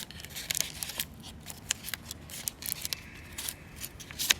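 Sticky tape is handled for a paper flower craft, giving faint, quick crinkles and small tearing ticks in irregular bursts in a quiet room.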